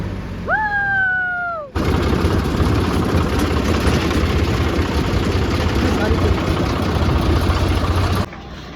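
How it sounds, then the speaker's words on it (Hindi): A tractor pulling a loaded trolley through a village gives a steady, loud rumbling engine drone for most of the stretch, following a brief rising whistle-like tone at the start. "अब हम सबके सब ट्रैक्टर ट्रॉली में बैठ गए"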